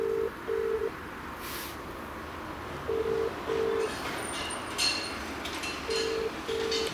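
Phone ringing out on a call to a woman, heard as a repeating two-tone ringback pattern of paired beeps over steady background noise, with several rings spaced a few seconds apart.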